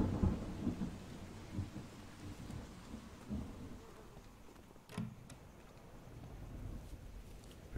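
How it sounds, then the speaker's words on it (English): Steady rain hisses in a horror video game set on an isolated island while low thunder rumbles and swells beneath it, with a sharp crack midway and a further rumble near the end. "A nice rainy morning."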